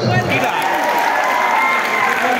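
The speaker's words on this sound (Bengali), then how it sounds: "আপুর জন্য জোরে হাততালি হোক।" Dense, steady applause from an audience at a company's annual cultural program, loud and sustained throughout with no break, crowd noise filling the room.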